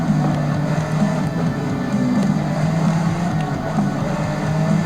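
A rally car in Forza Horizon 5 drives with a steady engine drone and low rumble, loud and continuous throughout without a break.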